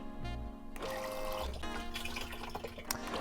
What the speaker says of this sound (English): Now this is a good jet of water.